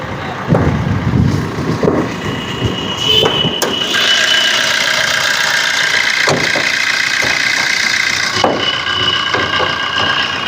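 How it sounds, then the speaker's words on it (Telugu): A Maruti Swift LDI diesel engine turns over and settles into a steady, loud idle close by, with a few clicks and knocks over the running rumble. "ఫస్ట్ అయితే ఇంజన్ అయితే నేను స్టార్ట్ చేసి మరి నేను చూపిస్తాను"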